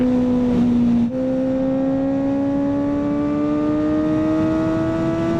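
Kawasaki ZX-4RR motorcycle with a slip-on exhaust revving loudly and close by: one long, steady climb in engine pitch after a brief dip, held alone without any talk.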